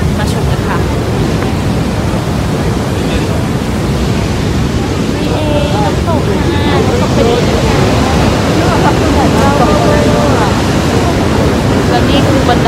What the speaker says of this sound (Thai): น้ำตกที่ใหญ่ที่สุดในสวิตเซอร์แลนด์